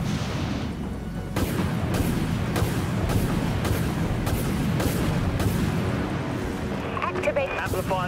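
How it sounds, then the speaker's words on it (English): A torpedo launch in the Dreadnought space combat game gives a run of evenly spaced, booming thuds over a steady engine roar, with a voice speaking near the end. "Torpedo launched."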